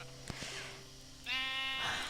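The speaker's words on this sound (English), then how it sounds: "If you ever wonder why I don't like working with sheep, case in point." In a Minecraft-style video game, a sheep gives a single loud, wavering bleat partway through, after some quieter game sounds.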